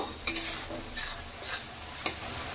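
Ginger paste and green chillies fry in a pan for bhog khichuri, a soft sizzle broken by a few quick scraping stirs, close and fairly quiet, with no voices.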